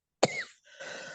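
A single sharp cough bursts out close to a microphone during a religious lecture, followed by a short silence and then a faint, breathy tail.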